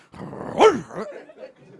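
A dog growls and then gives a short, sharp bark up close, with a brief whining, yipping trail afterward.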